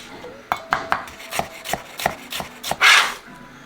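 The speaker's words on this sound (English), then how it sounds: "take your cucumbers and you just want to slice them as thinly as possible" A knife slices cucumbers thinly on a cutting board for a shrimp and crab ceviche, giving a steady run of about ten crisp, close chops ending in a louder scrape.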